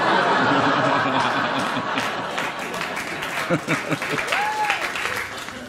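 Loud applause from a comedy audience fills the opening seconds and then thins out into scattered claps, chuckles and murmuring from the crowd.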